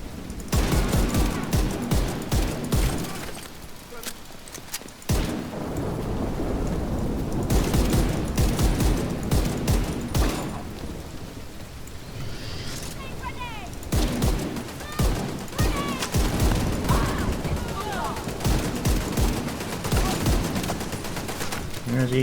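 Rifle fire in The Division 2 video game, repeated bursts and single sharp shots over a long firefight, loud and close, with someone talking between volleys.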